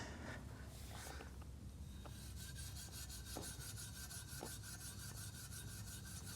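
Steel wool scrubbing a stained chrome exhaust tip, a quiet rasping rub with repeated back-and-forth strokes, close up, with no voices.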